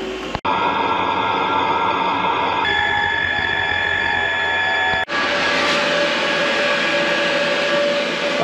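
An Espar D5 diesel heater installed in a snowmobile trailer runs with a loud, steady broadband roar and hum that shifts slightly in tone partway through, with two brief dropouts.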